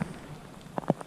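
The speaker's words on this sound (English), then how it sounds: "whilst it's still raining, it's not the" Rain falling during a 200 km audax bicycle ride, a soft steady patter of drops on surfaces with a few brief louder splashes near the end.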